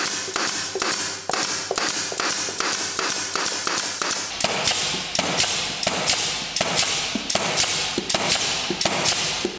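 Pneumatic air nailer firing pins through wood stacked on gypsum drywall, a rapid rhythmic series of sharp, loud, close taps and thuds, around twenty shots in quick succession with no talking.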